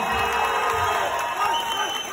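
A wedding crowd cheers and claps steadily in a reverberant hall, a continuous wash of applause and shouts with music-like tones running through it.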